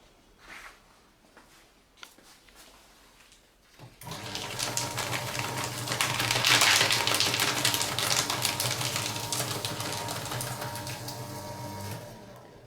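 A Fellowes 79Ci paper shredder grinds through paper, starting abruptly after a few faint clicks and running as a steady, loud whirring and chattering roar for about eight seconds.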